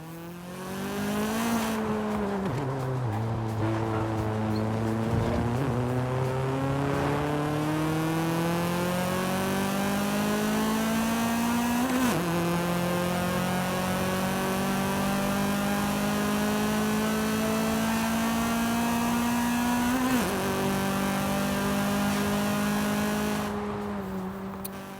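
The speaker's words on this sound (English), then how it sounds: "The iconic Honda note and VTEC engagement is vastly audible." Bone-stock 158 hp 1991 Honda CR-X SiR in Forza Horizon 5, its engine and exhaust revving loudly up through several gears with rising pitch, VTEC engagement and brief drops at each upshift, continuous and close with no talk.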